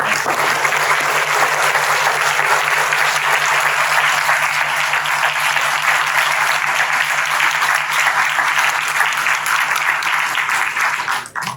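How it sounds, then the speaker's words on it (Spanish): Audience at an afternoon forum gives a sustained, loud round of applause, an even roar of many hands that carries on without pause and cuts off abruptly at the very end. "te mereces un gran aplauso esta tarde"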